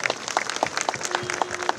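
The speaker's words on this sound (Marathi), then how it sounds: "ह्या कार्यकर्त्यांसाठी जरा जोरदार टाळ्या वाजवा" Audience applause for party workers at a Marathi political gathering: dense, steady clapping from a crowd, loud and close, running the whole time with a faintly pulsing rhythm and no talk over it.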